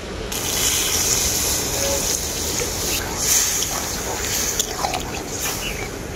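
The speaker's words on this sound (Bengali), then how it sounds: "এরপর এর মধ্যে দিয়ে দেবো অল্প পরিমাণে জল।" Water poured into a gourd and lentil curry with spinach cooking in a pot, a steady rushing gush with sizzle and splashing throughout, while someone talks over it.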